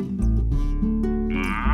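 A cow on a smallholding farm in Bomet, Kenya, lets out a loud, close, drawn-out moo that swells and holds across the whole stretch, with a rising bellow near the end and no talk.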